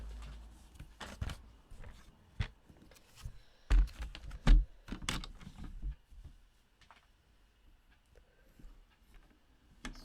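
Paper card stock is trimmed by a hand trimmer while making a scalloped greeting card: a cluster of close clicks, taps and sliding cuts, then quieter, sparse handling noises fading out.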